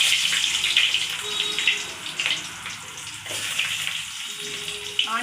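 Onions fry in hot oil in a kadai for a Tamil-style chicken gravy, a bright, continuous crackling hiss that swells and fades slightly, close up with no voices.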